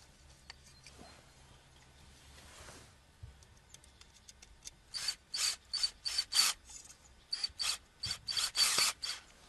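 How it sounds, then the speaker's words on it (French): Screws driven in by hand to mount a video doorbell: faint scraping and ticking at first, then a run of short, bright, rasping bursts from the turning screws, close and intermittent. "je mets mes vis sans serrer à fond"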